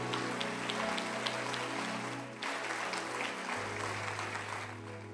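A church congregation applauding, a dense, steady patter of many hands that holds at even loudness for several seconds, with a sustained musical drone underneath.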